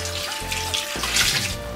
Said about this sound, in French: Une fois que nos viandes sont toutes revenues, nous allons verser le bouillon